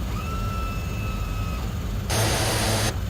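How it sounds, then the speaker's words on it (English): Twin Otter turboprop engines at full power in Microsoft Flight Simulator 2020 drone with a steady broadband roar and a faint tonal whine, joined by a burst of loud hiss partway through. "Full power to the engines, please."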